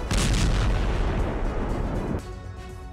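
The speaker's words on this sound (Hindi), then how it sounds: "रूस की ओर से यह हमला वेस्ट ग्रुप की होवित्जर डिवीजन ने यूक्रेनी आर्मर्ड फोर्स पर अंजाम दिया" Russian howitzer fire: a single heavy, close boom bursts out at once and then rolls away into a long, rumbling decay that tails off over a few seconds.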